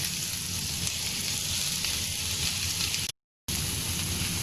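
Onions frying in hot oil with spices in a pan, a steady loud sizzle that runs on for a few seconds, cuts out briefly to silence, then resumes.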